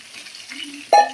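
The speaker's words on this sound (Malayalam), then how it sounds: "ഇതിലേക്ക് തേങ്ങാപ്പാൽ ആഡ് ചെയ്യുന്നത്" Coconut milk, a thinned second extract, is poured into a simmering fish gravy in a pan, giving a brief soft sizzle and liquid rush that jumps louder near the end over a low background bubble.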